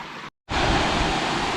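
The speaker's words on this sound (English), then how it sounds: "look at this waterfall" Broad rushing water from a waterfall and stream on a wooded hiking trail, a steady loud wash that breaks off for a moment and then returns at full strength.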